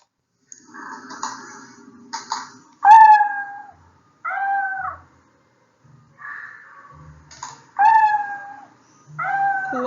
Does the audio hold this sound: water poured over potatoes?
no